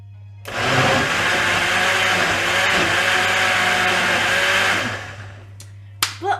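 A kitchen blender giving off a burning smell starts up and roars loudly and steadily for about four seconds, then winds down, followed by a couple of sharp clicks as it is handled. No talking.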